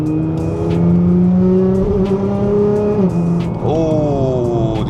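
Nissan GT-R exhaust with the valve opened in GT-R mode: a loud, close, deep drone rises and falls as the engine revs up in steps. A brief squeal-like edge appears near the end.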